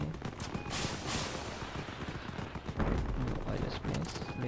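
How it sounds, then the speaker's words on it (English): Gunfire in the vehicle combat game Crossout, a dense continuous rattle of shots over rumbling engine noise, fairly loud and steady throughout. "Somebody's shooting me from that side"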